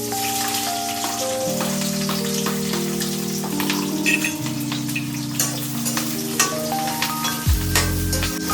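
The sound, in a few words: onion, chili and bay leaf frying in hot oil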